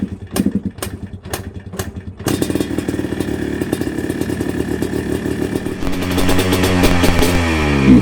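An engine running unevenly, sputtering and surging as if starved of fuel, with rapid clattering firing pulses that break off and pick up again, loud and close with no talking.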